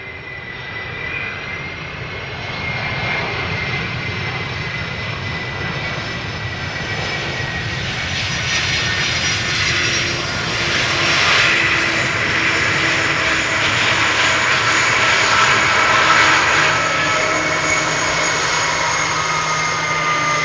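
A DHL cargo plane landing on Amsterdam Schiphol's Polderbaan on a hot, sunny day, its engine roar loud and continuous, swelling as the aircraft passes close and then holding steady with a sustained high whine.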